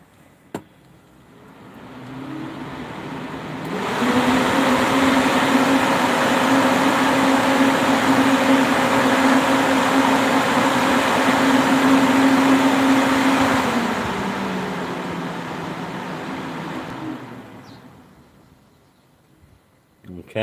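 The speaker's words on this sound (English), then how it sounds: "Fan unit test. Variable speed." A car engine cooling fan runs through a variable-speed actuation test with the engine stopped. Its whirring hum ramps up, holds steady at a higher speed with a clear tonal whine, then winds down to near silence, with a click at the end.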